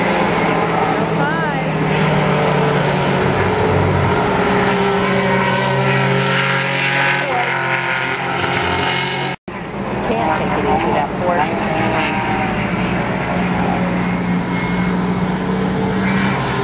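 Vintage race cars, a Porsche 911 and a Mini Cooper S, droning past at Lime Rock, a steady loud engine roar rising and fading with people talking over it.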